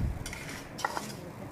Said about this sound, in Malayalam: എങ്കിലും നമ്മൾ അത് ഇളക്കിക്കൊണ്ടിരിക്കണം.